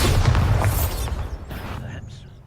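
A Bombarda spell explosion in Hogwarts Legacy: one loud, close, booming blast at the start that rolls off into a fading rumble and scattered debris crackle.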